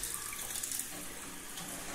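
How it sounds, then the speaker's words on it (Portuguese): Water gushes from a newly installed single-lever mixer faucet into a sink, a steady, close, hissing rush that continues unbroken with no voices. "Agora eu vou ligar a água e vou testar as torneiras aí."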